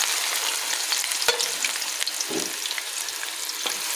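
Two medium onions fry in about three-quarters of a cup of hot oil, giving a dense, steady hiss of sizzling with a couple of brief stirring scrapes, close and continuous.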